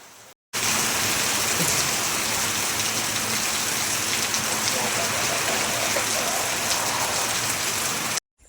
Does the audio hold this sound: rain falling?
yes